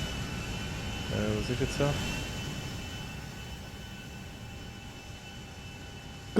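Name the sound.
airplane engine in the video game GTA 5 Online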